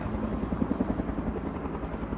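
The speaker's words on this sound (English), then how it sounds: "believe that's the helicopter from X-Men" A helicopter hauling logs between areas thumps with a steady rotor beat over a broad, constant engine roar, fairly loud and unbroken, with no voices.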